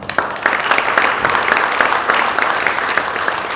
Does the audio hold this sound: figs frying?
no